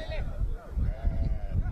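Sheep bleating at a large sheep market, several wavering calls rising over a low crowded background murmur, with a voice talking underneath.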